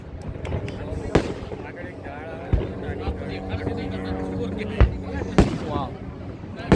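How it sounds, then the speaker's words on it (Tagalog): A Canada Day fireworks display over River Landing in Saskatoon pops and bangs at a distance, with several sharp bursts spaced a second or two apart over a steady crowd murmur and nearby talking. "you like the firework display?"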